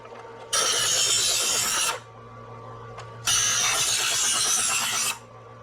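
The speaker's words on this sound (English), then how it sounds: "This is your buffing wheel down here" A knife blade pressed against a spinning buffing wheel on a knife sharpener makes two bursts of harsh, abrasive grinding, each lasting about a second and a half, separated by a pause where only a low motor hum remains.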